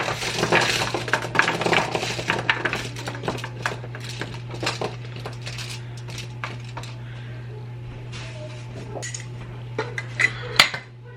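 Pork chops being tossed with olive oil for roasting, a busy run of clinking utensil and dish knocks against a pan, denser at first and thinning out, with a steady low hum underneath.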